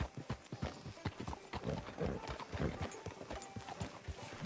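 Horse hooves clip-clop in a town street in Red Dead Redemption 2, a steady run of close, distinct hoof strikes with a faint whinny and soft background murmur.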